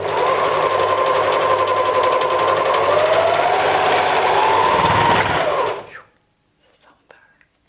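A sewing machine runs steadily for about six seconds, stitching the inner leg seam of a pair of summer shorts, loud and close with a constant whirring drone, then stops abruptly into near silence with a faint rustle after.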